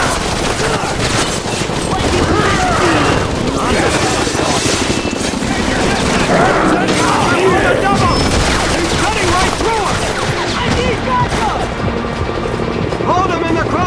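Soldiers' gunfire in the video game X-Men Origins: Wolverine: dense, continuous automatic fire and chaotic battle noise with a helicopter-like drone, loud throughout, with shouted voices mixed in.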